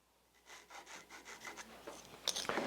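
A pencil drawing a line across a wooden disc held against a scrap straightedge, close and quiet scratchy strokes repeating in a quick rhythm, slightly louder toward the end.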